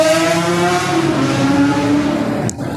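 A fast motorbike roars past at close range, its engine note loud and steady with a sharp, rising whine before fading slightly at the end.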